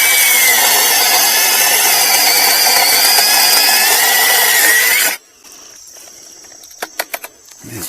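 A Sainlogic 21-volt brushless mini chainsaw with a 6-inch cut saws through wood with a loud, close, whining buzz for about five seconds, then cuts off abruptly, leaving a few light knocks and clatters.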